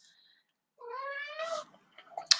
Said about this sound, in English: that's my cat, Candy. He's very vocal.